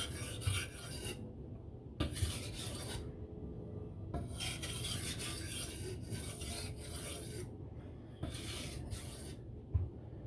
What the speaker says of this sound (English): Just for fun, checking how close I am by doing some burr minimizing.